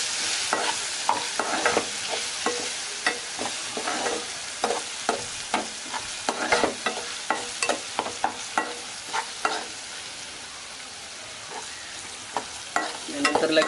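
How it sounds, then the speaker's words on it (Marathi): Garlic and chili paste being sautéed in a pan for an Agri-style mutton curry, gentle sizzling with rhythmic spoon strokes and scrapes repeating every second or so, close and steady, without talking. "लसूण मिरचीची पेस्ट टाकून घ्यायची। तिला पण चांगली पद्धतीने परतवून घ्यायची।"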